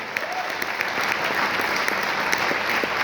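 An audience claps in sustained, dense applause at a success-story talk, steady and full throughout with no voices over it.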